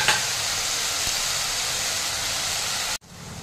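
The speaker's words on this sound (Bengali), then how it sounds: "এবার আমি বড়িটাও দিয়ে দিচ্ছি।" Lentil dumplings (bori) go into a pan of cauliflower stalk curry, producing a loud steady sizzling hiss that cuts off abruptly near the end.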